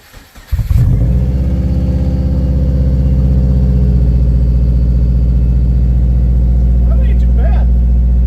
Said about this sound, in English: Time for a startup with an exhaust, and hopefully not a turbo that's shot.